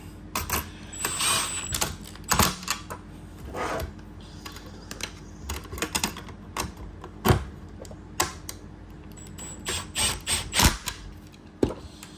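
Plastic zip ties ratcheted tight on a Starlink Mini batwing mount, giving close, crisp clicking bursts in uneven clusters that repeat through the whole stretch, with no talking.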